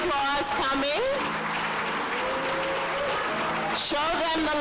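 Audience applause at a medical school white coat ceremony in a theater, a short stretch of clapping heard under an announcer's amplified voice.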